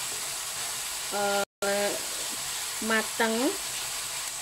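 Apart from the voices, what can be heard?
onions being sautéed in a pan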